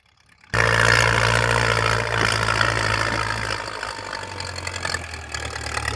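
A Ford 5000 tractor engine starts abruptly after a brief quiet moment, then runs with a loud, low, steady rumble close by that eases slightly in level toward the end.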